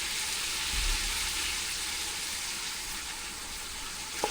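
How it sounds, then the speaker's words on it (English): Onions fry in a pan with a steady, broadband sizzle that holds even and close throughout, broken only by a faint clink near the end; they are being browned as the base for a pork bolognese. "So you want to lightly brown these onions."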